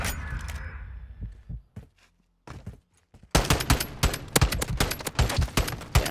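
Gunfire in a search-and-destroy round of a video game shooter: a few scattered shots, a short lull, then dense rapid bursts of automatic fire, loud and close.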